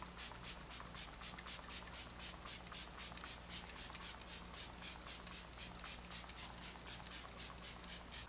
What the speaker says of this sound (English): so let's spray it on our face.